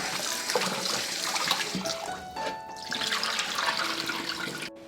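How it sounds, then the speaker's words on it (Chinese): Chunks of local duck meat being scrubbed by hand in a basin of salted water, a continuous close sloshing and splashing of water that runs throughout with a few gurgles and no speech. "我们加一些盐跟清水给它抓洗一下就很干净了"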